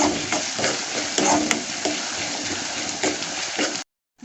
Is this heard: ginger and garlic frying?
yes